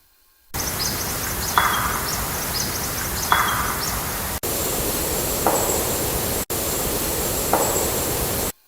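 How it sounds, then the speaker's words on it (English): A few sharp knocks, like wood struck on wood, sound at a distance over a steady hiss of background noise, spaced a couple of seconds apart. "We did get a couple of wood knocks."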